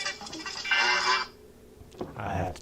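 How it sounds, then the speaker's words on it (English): A mobile phone ringtone plays the Sanford and Son theme tune in a home, with a short burst of melody, a pause, then another phrase, fairly close and clear. "And there goes my phone."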